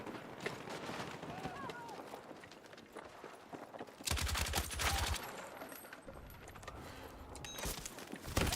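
Battlefield 6 gunfire on a contested objective: bursts of automatic shots, one dense close burst midway and another near the end, under faint radio chatter and a talking voice.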